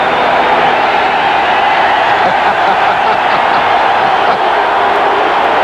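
A stadium crowd at the 1987 Rose Bowl cheers in a broad, continuous roar that holds at a steady, loud level from start to finish.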